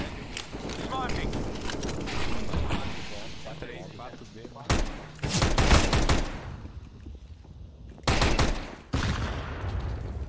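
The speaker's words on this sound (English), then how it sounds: "Flashbang." A flashbang grenade in a CS:GO match goes off as a sharp, loud bang among several bursts of gunfire, with an esports commentator talking over the action.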